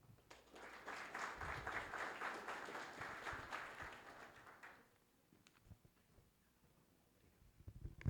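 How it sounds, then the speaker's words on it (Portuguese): An audience applauds for several seconds at a symposium talk, the clapping fading out, followed by quiet room noise with faint movement. "uma salva de palmas"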